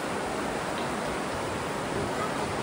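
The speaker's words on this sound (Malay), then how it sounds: "Ada air jatuh ni kat sini." Water falling inside Gua Kelam cave at Perlis Indra Kayangan, a continuous broadband rushing wash at steady loudness, with no distinct voices over it.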